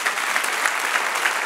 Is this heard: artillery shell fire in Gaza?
no